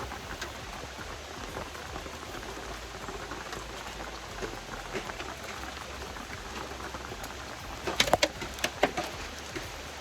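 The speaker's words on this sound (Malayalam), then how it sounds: "നല്ല മഴയാണ് കേട്ടോ പുറത്ത്" Heavy rain pours outside a house as a steady, dense hiss throughout, with a few sharper drips or knocks near the end.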